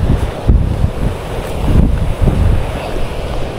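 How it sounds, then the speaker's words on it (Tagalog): Large ocean waves heard from out at sea, with strong wind roaring across the microphone in uneven gusts and surging swells beneath, close and loud throughout. "Ang laki ng alon."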